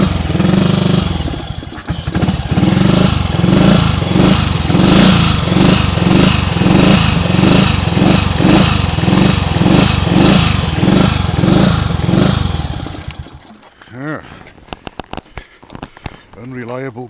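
A Triumph Trials Cub motorcycle engine runs loud and close with a rough, uneven beat from a misfire, then falters and stalls under load, leaving sparse clicks and faint sounds.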